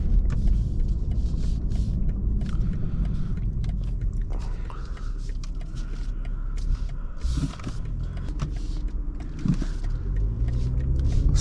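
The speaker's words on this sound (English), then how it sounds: "So, setting off in this M340i" A 2024 BMW M340i xDrive pulls away from rest, its engine a low steady rumble heard from inside the cabin, joined by small creaks and interior mechanism clicks, with no talking.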